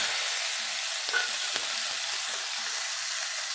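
Steady crackling sizzle of chopped green chilies frying in hot oil, constant and close, with a faint clink or two and no talking.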